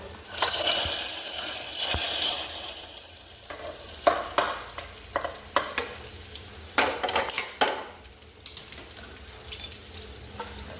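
Vegetables are stirred into mustard seed tempering in a hot pan, a steady oily sizzle broken by repeated clinks and scrapes of a spoon against the pan that grow sharper and more frequent midway before settling, with no talking.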